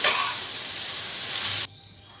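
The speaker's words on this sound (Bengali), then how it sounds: "এখন আমি খুব সুন্দর করে নেড়ে চেড়ে মিশিয়ে নিচ্ছি" Spiced pointed gourd frying in a pan over high heat while being stirred, giving a loud, close, continuous sizzling hiss that cuts off abruptly.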